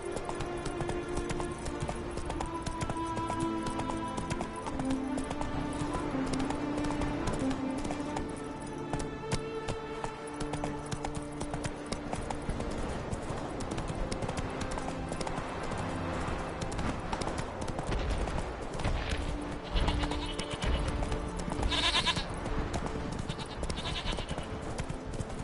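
Roach, Geralt's horse in The Witcher 3: Wild Hunt, gallops with steady hoofbeats under a dense wash of game music and ambient effects, with animal bleats mixed in and a louder burst near the end.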